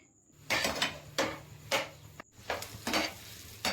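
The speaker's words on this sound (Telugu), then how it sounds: "చూడండి, నేనైతే ఈ విధంగా కలుపుకుంటున్నాను" Chicken liver fry is stirred in a kadai over a low flame, a spoon scraping the pan in regular strokes about every half second over a soft continuous sizzle, close and clear.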